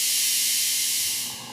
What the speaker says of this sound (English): The water is boiling in the kettle.